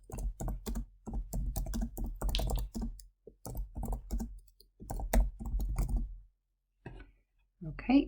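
Keys on a computer keyboard clatter in rapid, uneven bursts for several seconds while text is entered, close and clear, with a brief pause and a single spoken word near the end.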